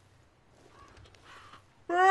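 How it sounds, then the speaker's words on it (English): Several harsh crow caws in the horror game Slender The Arrival, faint and distant at first, then a loud, close caw bursting in at the end against a quiet backdrop. "Birds!"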